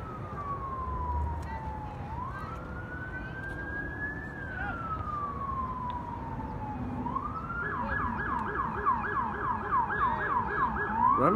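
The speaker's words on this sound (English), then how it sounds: "I've been hearing ambulance all day today" An ambulance siren wails in long rising and falling tones, then switches to a rapid yelp, steady over background traffic rumble.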